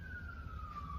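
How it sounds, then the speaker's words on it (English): A single emergency vehicle siren carries through a neighborhood as one long, slowly falling tone, distant and steady over low background rumble. "Now sirens go into this neighborhood behind me all day long."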